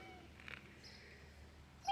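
A kitten wearing a reflective harness, outdoors for the first time, gives a couple of faint cat sounds in a quiet outdoor setting, with no talking.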